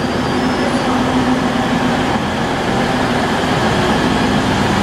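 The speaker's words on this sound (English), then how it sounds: "This train just arrived at Doncaster." A First TransPennine Express Class 185 diesel multiple unit, 185106, sits at Doncaster station. Its engine hum and rail rumble run loud and steady throughout, with no talking.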